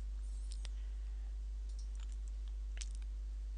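A computer mouse clicks on a link in a mobile web app, giving a few quiet, sharp clicks against faint background hiss, with no voices.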